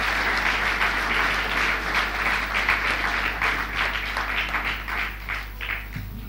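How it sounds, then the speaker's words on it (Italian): A hall audience at the opening event of the Pietro Ingrao centenary celebrations in Lenola applauds the mayor: sustained, thick clapping from many hands that swells early and then gradually tapers off. "vorrei che voi tributaste un applauso"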